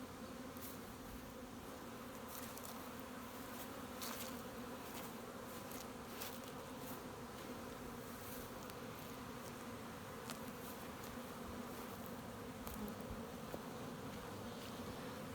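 Honey bees in a beeyard give a soft, continuous buzzing hum, with individual bees droning past nearby now and then, and no talk.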